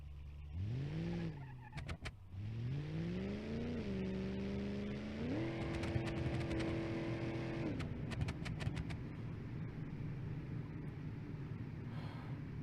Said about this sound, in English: Engine's got to rev higher. Because it's just sticking to the rev limiter and shifting.